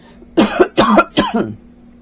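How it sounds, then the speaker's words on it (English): Three harsh coughs in quick succession, close and loud, with no talking. "I seriously want to apologize for the coughing that's gone."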